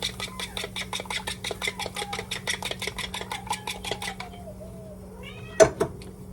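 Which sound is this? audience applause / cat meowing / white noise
cat meowing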